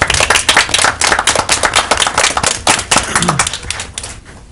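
Applause from attendees at a county board of education meeting: sharp, close hand claps in a brisk, uneven patter that thins out toward the end.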